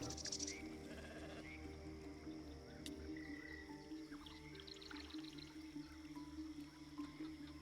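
Sheep bleating in Baldur's Gate 3, a few bleats against a steady ambient bed of crickets and insects, with no talk over it.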